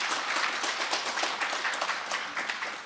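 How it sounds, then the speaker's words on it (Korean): A workshop audience in a conference hall applauds, a dense steady burst of many hands clapping together for a few seconds, moderately distant and even throughout. "다시 한번 감사의 박수 부탁드립니다"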